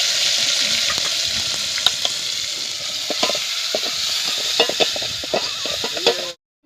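Chopped onion hits hot oil already holding mustard seeds, cumin and curry leaves, setting off a steady, loud broadband sizzle with frequent crackles and pops while it is stirred and fried in a home kitchen.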